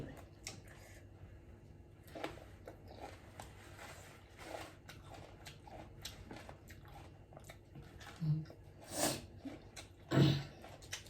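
Someone crunches crisp raw cabbage alongside mussels, with close, soft chewing and several sharper bites near the end, moist and irregular, no talking.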